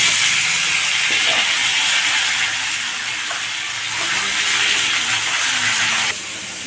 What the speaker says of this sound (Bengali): ডিমের সঙ্গে আলুগুলোকে সিদ্ধ করে নিয়েছিলাম, এবার আলুগুলোকে ভেজে নিচ্ছি।